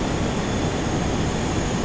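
Steady, loud roar of Boeing 737-200 jet engines in the X-Plane 11 flight simulator, a dense continuous rumble and hiss that holds even throughout, with no talk over it.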